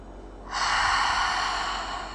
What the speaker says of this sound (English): Start with an exhale.